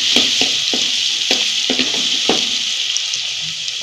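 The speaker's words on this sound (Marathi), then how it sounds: "ही लसूण पेस्ट टाकायची, चांगली हलवून परतून घ्यायची" Garlic paste fries in hot oil with a steady bright sizzle, while a spoon stirs it in repeated scraping strokes. No one speaks.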